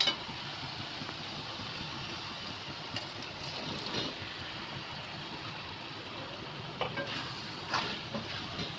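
Pasta being sautéed with spices in a pan for a masala pasta, giving a soft, continuous sizzle and frying hiss close by, with occasional faint scrapes and knocks of stirring and no talk.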